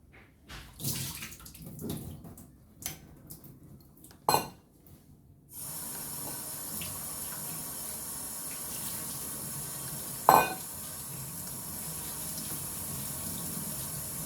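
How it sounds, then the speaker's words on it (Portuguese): Water from rehydrated hijiki seaweed is poured off in a continuous steady stream after a few light kitchen knocks and clatters, with one sharp clink partway through the flow. "Vamos aqui agora retirar a água da alga."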